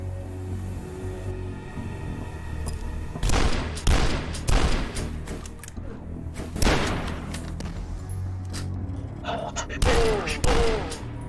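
Shotgun blasts in the video game DUSK, fired from two shotguns: a series of loud, booming shots in irregular bursts, some close together, over a steady game background.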